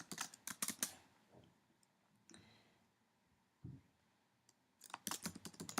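Bursts of rapid key clicks from typing on a computer keyboard come in two dense clusters at the start and end, separated by quieter scattered taps and a few isolated clicks.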